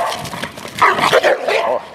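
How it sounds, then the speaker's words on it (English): A Rottweiler barks and growls during leg-bite work, with close, rough, gruff bursts coming in quick succession over about two seconds. "Here, you see a Rottweiler that we were working with."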